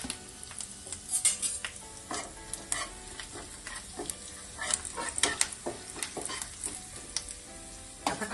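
Whole coriander and fennel seeds sizzling in hot oil with curry leaves and cumin, a steady quiet fry under repeated stirring scrapes and light clinks of a spoon against the pan.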